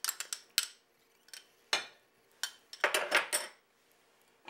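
Roasted green chillies pounded in a mortar and pestle, giving sharp, irregular knocks and scraping clinks, a few isolated strikes followed by a denser cluster, close and fairly quiet with no talking.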